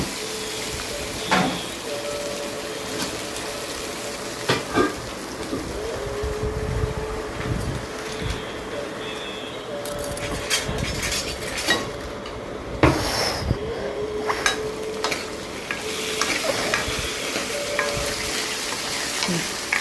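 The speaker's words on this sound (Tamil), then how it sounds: "இப்போ கடலைப்பருப்பு செவக்க வறுந்துடுச்சு" Chana dal frying in a pan with oil, a steady crackling sizzle throughout with occasional stirring scrapes and clinks, close and fairly loud.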